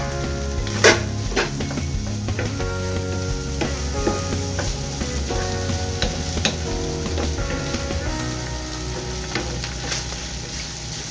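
Chili being stirred into sizzling bopis in a frying pan, a steady loud frying hiss with scraping and clinking of the utensil against the pan throughout.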